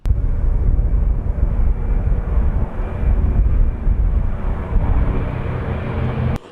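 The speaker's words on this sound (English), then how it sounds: "as the plane taxied into position, providing a contrast to the big commercial jets and then lifting off smoothly" The vintage plane Miss Montana takes off from an airport runway with a loud, steady engine roar and broad rumbling noise that holds throughout.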